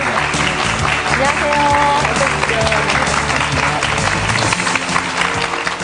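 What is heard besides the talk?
studio audience applause welcoming a guest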